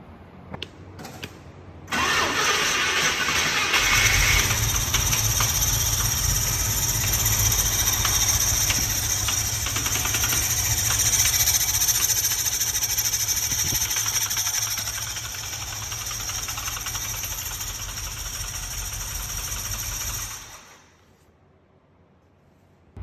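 A 1975 International Scout II with a swapped-in IH 345 V8 starts up and idles steadily for most of the stretch, a close, continuous rumble that eases slightly near the end before the engine is shut off.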